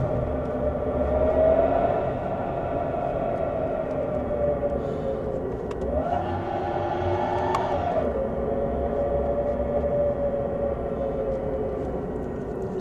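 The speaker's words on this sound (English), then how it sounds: "So this is Supersonic." Hyundai IONIQ 5 N electric car playing its synthetic Supersonic engine sound, a continuous droning tone that swells and bends upward midway before settling, heard steadily from inside the cabin.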